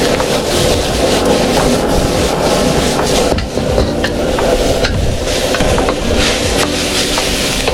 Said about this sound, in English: We're just going to do a quick stir fry here.